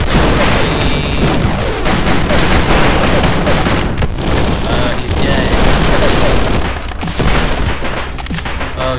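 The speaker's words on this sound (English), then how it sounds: "Oh, he's got a light machine gun." Rapid light machine gun fire in the 2D action game Superfighters Deluxe, loud and dense with booming explosions mixed in, continuous through the whole stretch while a voice talks over it.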